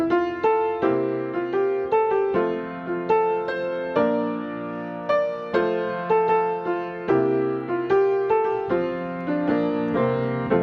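A piano plays a simple chord progression alone, steady block chords changing at an even, unhurried pace with a light melody on top.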